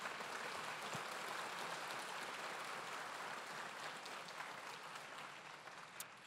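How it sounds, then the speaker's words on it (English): Sustained applause from a large crowd, dense and even, slowly tapering off toward the end. "Let's give them all a round of applause again."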